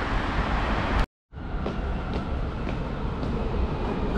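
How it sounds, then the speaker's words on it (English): A train in Kadoma, a suburban town in Osaka, Japan, rolls past with a steady, loud rumble of wheels and cars and faint rhythmic clatter, briefly cut by a moment of silence. "Here comes the train"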